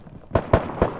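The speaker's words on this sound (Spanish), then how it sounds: "¿Se escucha el disparo, no?" Gunshots in the survival shooter Deadside, four sharp, evenly spaced reports in quick succession, loud and near, with no voices.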